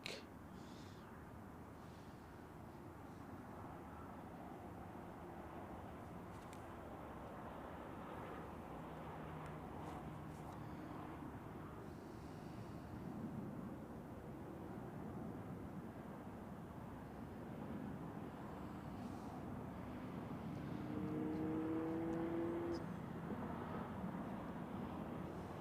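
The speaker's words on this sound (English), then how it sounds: "the next one is EasyJet with an A319 from London Gatwick" An EasyJet Airbus A319 arriving from London Gatwick at Zurich produces a faint, distant jet rumble that grows louder toward the end, with a brief tonal whine near the close.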